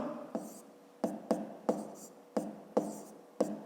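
A pen writes out a fifth-grade maths exercise on paper, with a series of short, distinct scratching strokes in an irregular rhythm, close and quiet in a still room.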